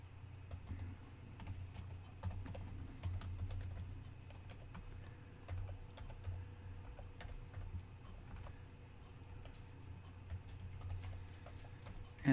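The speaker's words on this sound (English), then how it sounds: "I don't have it here locally, so I'm having to type it." Steady typing on a computer keyboard, quiet and close, with irregular key clicks over a low background hum.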